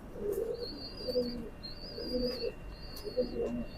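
A teddy pigeon coos in close, soft repeated throaty phrases about once a second, with a faint high tone running steadily behind.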